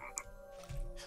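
A frog croaks in the video game TechnoMage, a single short call near the start followed by a lower, louder croak toward the end, set against a steady game background hum.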